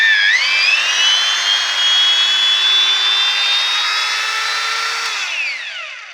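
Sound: Bosch GWS 850 CE angle grinder running

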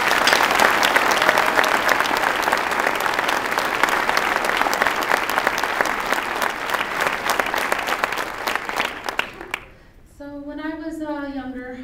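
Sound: audience applause

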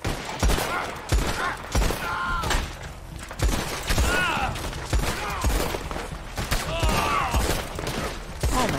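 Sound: gunfire in Red Dead Redemption 2 video game

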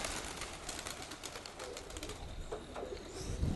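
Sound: domestic pigeon cooing and flapping as it lands

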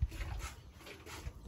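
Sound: dog nearby a cow being milked

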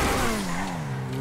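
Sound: Vysser Neo car accelerating in video game GTA 5 Online

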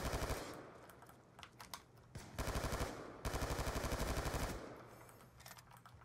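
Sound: gunfire in the video game Call of Duty

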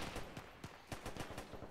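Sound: rifle gunfire

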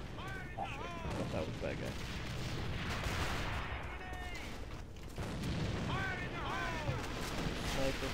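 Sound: G36 rifle gunfire in video game AVA

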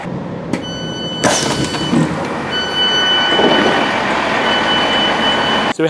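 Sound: Great Western Railway train departing Reading Green Park station

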